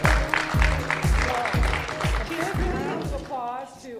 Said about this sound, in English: Applause to all of our judges and our sponsors.